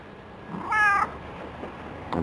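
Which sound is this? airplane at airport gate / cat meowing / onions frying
cat meowing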